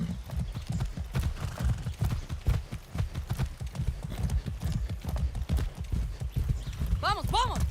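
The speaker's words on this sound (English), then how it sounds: "I haven't ridden a horse since basic training." Horse hooves clop in a quick, steady rhythm as the animal moves along in Far Cry 6, close and continuous, with a whinny near the end and voices mixed in.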